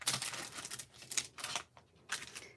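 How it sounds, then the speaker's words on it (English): Die cutting machine for papercraft card-making, giving a few short mechanical clicking and rolling bursts in quick succession, close and fairly quiet, with no talk. "Let's bring over the die cutting machine. Die cut."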